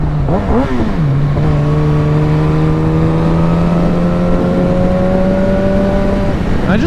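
A loud motorcycle engine revs up and settles into a steady, droning exhaust note, held at high pitch before dropping off at the end.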